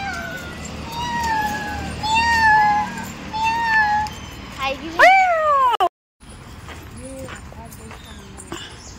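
A cat meows several times in a row, fairly close, with rising and falling cries, during an outdoor family outing in Uttarakhand; people talk nearby, and the sound cuts out briefly near the end.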